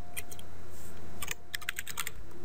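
A command typed on a computer keyboard while configuring a Cisco ASA 5510 firewall, with a scattered run of clicky keystrokes, a short burst early and a denser cluster in the latter half.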